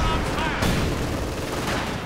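Battle in Company of Heroes 2 with tanks charging into light machine gun fire and flamethrowers, where bursts of gunfire and booms crowd together in a dense, continuous clatter over a brief span.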